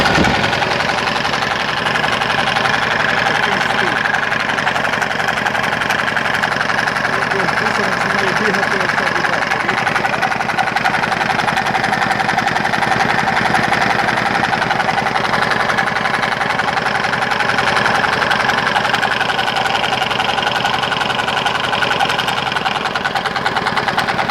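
A small diesel mini tractor engine runs steadily at idle with a persistent rattling knock from an engine fault throughout, loud and close, with no talking over it.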